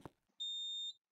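A hotel fire alarm sounds during a test: one steady, loud electronic tone of about half a second after a brief thump, then silence.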